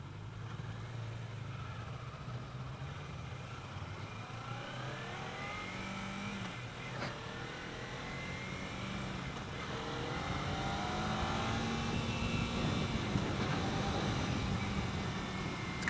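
A 2015 Kawasaki Ninja 300 motorcycle engine pulls steadily through the revs, rising in pitch as it shifts up, with a continuous moderately loud drone and wind rush throughout.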